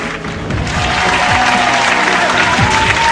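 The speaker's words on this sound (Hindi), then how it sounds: "जोरदार तालियों के साथ हम स्वागत करते हैं अपने बीच प्रियंका राय जी का।" Audience applause at an Independence Day kavi sammelan (Hindi poetry gathering), a steady roar of clapping from a large crowd that swells slightly and stays loud and continuous throughout.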